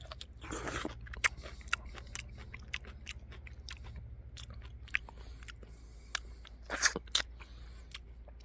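Close crunchy bites and chewing on fresh, unrinsed citrus fruit picked from a home garden, with a sharp bite near the start and another cluster later over quiet background hum, no talking.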